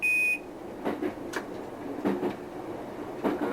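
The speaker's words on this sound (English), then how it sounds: "I get this buzzer, which I presume is the guard" A train cab buzzer sounded by the guard gives a steady electronic tone at the start, then breaks off into quieter cab rumble with several short clunks and rattles.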